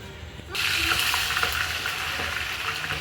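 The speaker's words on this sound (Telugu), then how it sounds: "చూడండి అల్లం వెల్లిపాయ పేస్ట్ వేగుతుంది" Ginger garlic paste fries in oil left from frying chicken over a wood-fired stove, a dense loud sizzle bursting in after a quieter moment and continuing steadily with light stirring scrapes.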